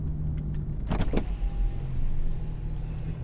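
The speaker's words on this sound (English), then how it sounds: "I just put the window down on my side" Electric window lowering on a 2003 Mercedes-Benz SL55 AMG R230, a thin steady motor whine inside the cabin under a continuous engine and road rumble, with a couple of brief clunks just before it.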